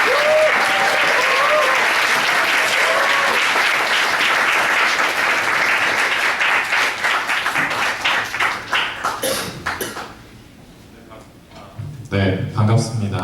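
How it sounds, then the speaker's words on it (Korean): A church congregation applauds to welcome a speaker, loud dense clapping that thins out into scattered claps and fades, followed by a brief voice at the end. "박수로 환영해 주시면 감사하겠습니다"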